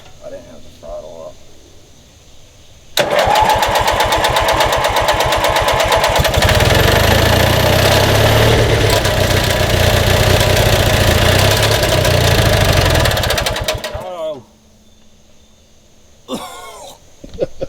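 A vintage Montgomery Ward garden tractor engine roars to life and runs loud and steady for about eleven seconds with a rapid firing pulse, then cuts out; brief voices come before and after.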